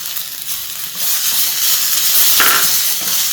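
Capsicum stir-fried in a pan for street-style chicken fried rice, a steady loud sizzle swelling partway through with faint tossing and scraping, no talk.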